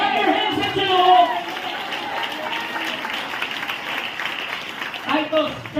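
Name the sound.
congregation clapping hands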